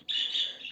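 A talkative pet bird gives a single short, bright chirp in the background, faint and heard alone.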